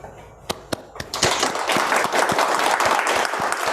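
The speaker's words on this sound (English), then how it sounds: "give a big applause to chairs, speakers, and all the participants" Scattered claps at a 2021 symposium build into sustained group applause from participants, fairly soft and steady, with a voice faintly audible.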